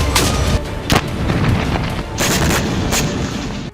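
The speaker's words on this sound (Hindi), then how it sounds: "देखिए आर्टिलरी से कैसे हमले किए जा रहे हैं।" Russian artillery fire in wartime combat: repeated heavy booms and sharp blasts strike at irregular intervals over a dense, continuous roar of battlefield noise.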